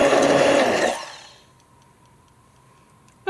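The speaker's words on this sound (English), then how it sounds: "mix it together with your hand blender." A hand blender whirs loudly for about a second while mixing a heated oatmeal lotion with sorbitol and water, then cuts off, leaving a faint steady hum and a brief clatter at the end.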